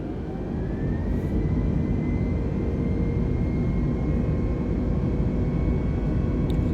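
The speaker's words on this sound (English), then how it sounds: "Okay, we're clear for takeoff." An airplane taking off in Microsoft Flight Simulator 2020: a loud, steady engine roar with a slowly rising whine as it gathers speed down the runway, continuous and close with no talk.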